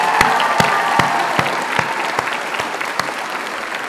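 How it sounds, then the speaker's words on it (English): A crowd at a middle school promotion ceremony applauds athletes with a dense wash of clapping, punctuated by sharp, regularly spaced claps standing out near the listener. "let's give them a big round of applause"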